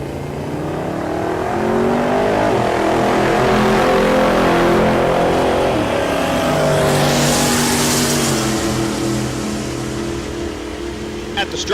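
A C3 Corvette and a Silverado pickup make a drag racing pass at Tulsa Raceway Park, a loud, sustained engine roar building and shifting pitch for several seconds, with an announcer talking over it.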